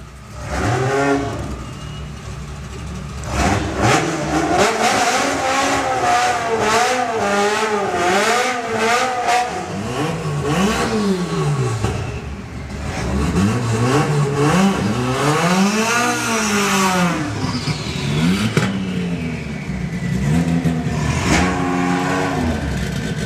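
A Colston Racing Golf drag car makes a solo run at a drag racing national final, its engine wailing loudly and sweeping up and down through repeated gear changes for the full run.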